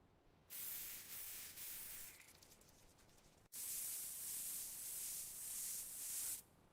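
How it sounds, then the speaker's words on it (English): An aerosol spray hisses onto a runner's neck during a marathon, two long steady bursts broken by a brief pause, loud and close with no talk. "Spray your neck."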